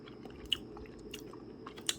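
Close, quiet chewing of crispy fried hairtail fish, soft crunches with a couple of sharp bites standing out over a low, steady background, with no one talking.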